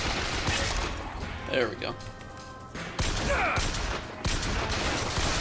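Bursts of gunfire in the first-person shooter BioShock Infinite, loud and clustered with short pauses between volleys, while someone talks over the shooting.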